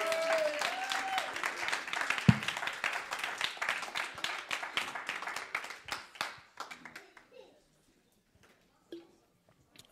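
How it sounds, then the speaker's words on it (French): Church congregation applauding during a service, a dense burst of many hands clapping that thins out and fades after several seconds, ending with a few scattered claps and a brief voice. "Est-ce qu'on peut juste acclamer le Seigneur pour sa présence au milieu de nous?"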